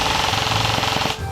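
An airsoft gun firing rapid bursts during an insurgency milsim game, a loud close rattling stream of shots that stops abruptly near the end.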